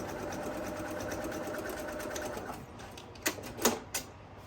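A sewing machine stitches fabric for a flat-bottom reversible tote bag, a steady close mechanical whir for a few seconds that stops, followed by a few sharp clicks and taps.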